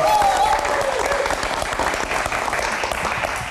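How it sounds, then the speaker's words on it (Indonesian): Audience applause at an Indonesian TV show taping, dense clapping from a studio crowd that stays loud and steady throughout with a faint tonal whistle early on. "Oke, Mas Fitra, tepuk tangan yang paling meriah dong."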